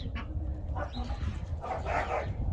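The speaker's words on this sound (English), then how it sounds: "Uh-oh, dogs are fighting." Dogs on a goat farm scuffle and bark in a jumble of short yips, growls and whimpers, fairly close, with a couple of sharper bursts near the start and a busier flurry toward the end.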